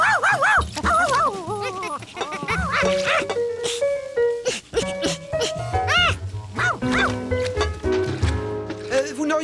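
An overexcited cartoon dog yapping and whimpering in bursts of rising, bouncy barks, loud and close, mixed with cartoon music and other voices.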